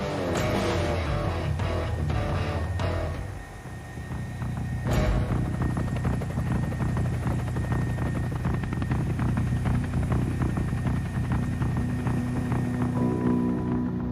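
Rescue helicopter flying over the Côte d'Argent coast, its rotor thudding loud and steady throughout with a constant engine whine, close and continuous.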